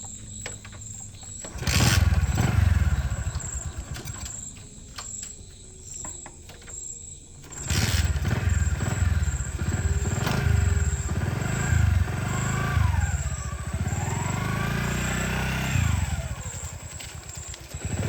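Motorcycle engine running steadily with low throbbing pulses, revving up around the middle and staying loud and close, with chirping insects in the background and no talk.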